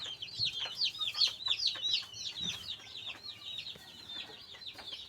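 Broiler chicks peep in rapid, high chirping bursts, with occasional soft clucks, fairly close and steady, no talk over them.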